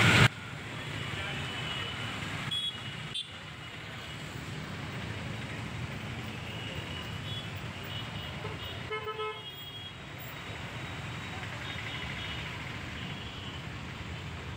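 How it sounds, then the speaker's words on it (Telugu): Busy road traffic near Gopalapatnam, a steady wash of passing engines with short horn toots breaking through, heard at moderate distance throughout. "ఇక్కడ traffic right and left full ట్రాఫిక్గా ఉంటుందన్నమాట"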